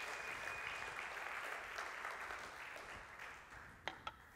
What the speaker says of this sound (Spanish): Le da ese aplauso fuerte